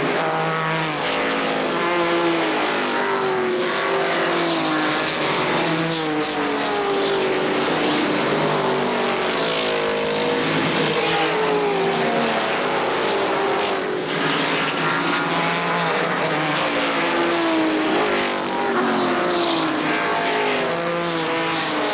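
ARCA stock cars roar past on the racetrack, a loud, continuous blend of engine drone that swells and overlaps as the field runs by without a pause.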